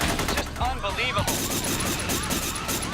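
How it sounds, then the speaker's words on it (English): Rapid gunfire in an action-movie shootout with SWAT firing at point-blank range, dense bursts of shots over a loud chaotic mix with voices talking throughout. "Shots are firing everywhere."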